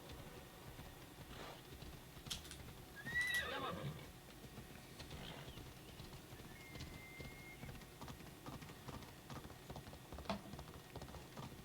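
A fiery horse in the Assassin's Creed Odyssey video game neighs once in a loud whinny over continuous clip-clop hoofbeats, with faint game ambience and a second softer call later.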